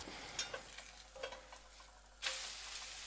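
Crepe batter hitting a hot cast iron pan, with light crackling and ticking at first, then a sudden loud, bright hiss as the batter meets the surface and keeps sizzling, close and without talk.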